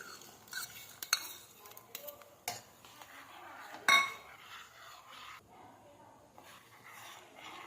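Chutney with salt, red chilli and jaggery is stirred in a pot, giving sparse close scrapes and light metallic clinks against a quiet background.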